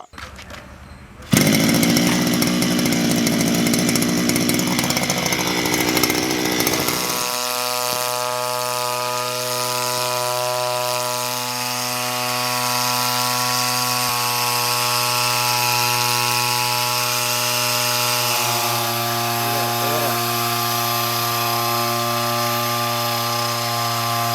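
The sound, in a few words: petrol brush cutter engine running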